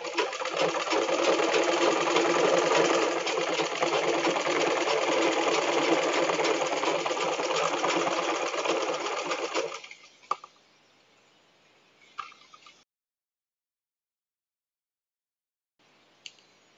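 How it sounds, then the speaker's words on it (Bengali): A sewing machine runs steadily for about ten seconds, stitching elastic into a salwar, then stops, followed by a few faint clicks and handling sounds before near silence. "এরপর আবার এভাবে করে ভাঁজ করে নিয়ে তারপর আমি সেলাইটা করব।"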